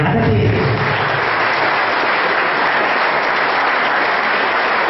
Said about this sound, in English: I think you should give him a much bigger applause for us than other teams.